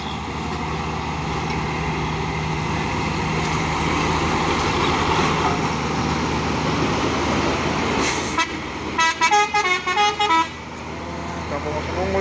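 A Pertamina tanker truck passing on a road, a loud rising engine and tyre rumble that builds for several seconds, followed by a run of short musical horn toots, with people talking nearby.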